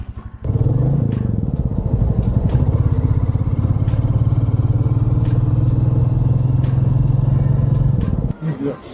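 A Royal Enfield Classic 350 motorcycle idles close by with its distinctive steady, thumping single-cylinder beat for about eight seconds before the engine cuts off, with people talking nearby.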